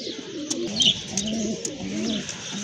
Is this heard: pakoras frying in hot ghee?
no